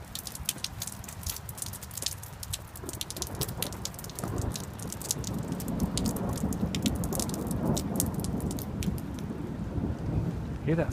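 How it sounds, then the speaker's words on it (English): Steady rain falls with a low, rolling thunder rumble building beneath the patter, heard up close outdoors near a garage with no talking. "Hear that thunder?"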